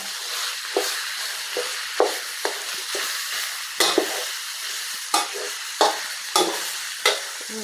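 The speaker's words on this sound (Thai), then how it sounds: "เราจะค่อยๆผัด ค่อยๆผัดไป" Pork stir-fried with shrimp paste and sator beans in a pan: a steady sizzle runs throughout, broken by about ten sharp spatula scrapes and knocks at an uneven pace. No one speaks.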